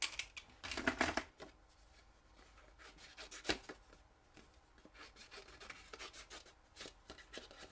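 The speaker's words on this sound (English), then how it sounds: "we will quickly fussy cut that out" Scissors fussy cutting a holly leaf shape out of cardstock, giving soft, close snipping and rubbing sounds in irregular clusters, with a louder flurry near the start and faint handling noise between.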